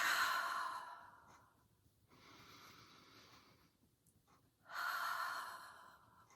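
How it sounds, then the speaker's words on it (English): Slow, deep breathing up close during an energy exercise: a long audible exhale, a softer inhale, then another strong exhale, with quiet gaps between. "And I'm going to take some nice deep breaths."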